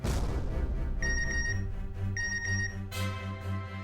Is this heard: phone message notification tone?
yes